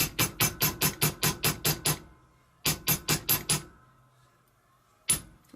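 Hammer tapping a metal heart pendant for jewellery making: about ten quick, evenly spaced light strikes, a pause, five more taps, then one final blow, close and crisp.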